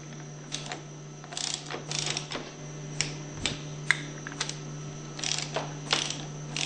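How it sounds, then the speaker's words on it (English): A ratchet torque wrench tightens the valve caps on a Hypro 2400 series plunger pump to 85 foot-pounds, producing quick close clicking bursts over a steady background hum, with no talking. "torque these valve caps to 85 foot-pounds"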